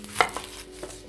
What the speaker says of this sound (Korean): 양파 잘라서